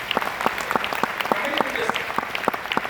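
An audience at a talk claps throughout, with a steady spread of individual hand claps, moderately close and rhythmic, filling the whole short stretch.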